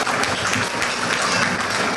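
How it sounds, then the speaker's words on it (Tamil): Crowd applause at a Sri Varasiththi Vinaayagar temple gathering in Canada, honouring the temple priest: dense, steady clapping from many hands filling the whole stretch at even loudness, with no voices on top. "உங்களுடைய உற்சாகமான கரகோஷத்தை வழங்குமாறு வேண்டுகின்றோம்"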